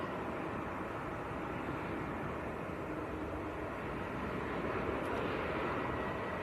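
A Ryanair airliner lands at Manchester Airport, giving a steady, broad jet roar that holds evenly through the whole stretch with no voices.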